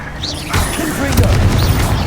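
Confringo explosion spell cast in the Hogwarts Legacy video game, a sudden boom breaking out amid battle noise, with voices layered over it.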